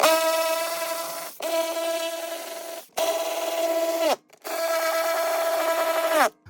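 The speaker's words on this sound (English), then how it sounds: "I just took my wire wheel and I cleaned all this stuff up underneath" A wire wheel spinning against the underside of a Foxbody drag car, running in four loud, close bursts of steady whining grind separated by short pauses, with no talking.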